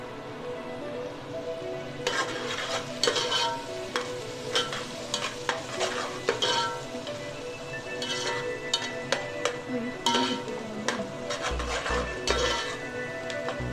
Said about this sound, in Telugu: దీన్ని బాగా తిప్పాలండి